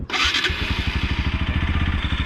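A motorcycle engine catches and then runs loud and close at a steady, even rhythmic idle after a brief starting burst.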